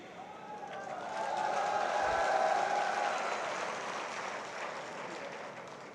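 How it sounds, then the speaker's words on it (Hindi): Audience clapping at a public event where a minister speaks about a Sainik School: a broad wash of applause that swells, peaks midway and eases off, with faint voices mixed in. "अब आप लोगों ने ताली बजा दिया"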